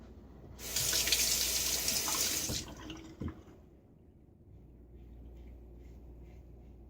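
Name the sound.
water running from tap while rinsing razor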